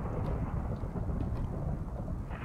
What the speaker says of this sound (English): And it's thunder.